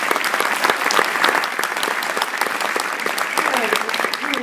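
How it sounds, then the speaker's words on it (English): Audience applause fills a high school jazz band concert at Geneva High School, a dense, steady wash of many hands clapping close by, with a voice faintly rising under it near the end. "Please give them a round of applause."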